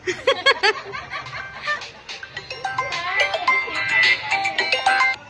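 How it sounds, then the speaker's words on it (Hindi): A chirpy electronic ringtone melody plays in bursts while people talk and laugh nearby. "किसी का फोन आ रहा था, मैंने काट दिया"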